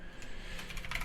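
Quiet, rapid tapping of keys on a computer keyboard, a brief close run of soft clicks over faint background hum.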